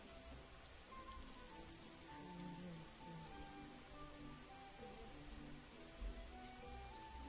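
Chocolate rain falls in the Grow a Garden video game, a soft, continuous patter of drops on surfaces that stays quiet and even, with faint scattered chirps over the top.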